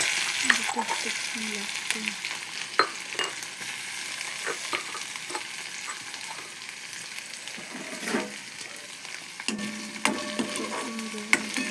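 Garlic paste with cumin and ginger sautéing in a pan, a continuous moderate sizzle with intermittent clicks and scrapes of stirring, and brief soft voice sounds in places.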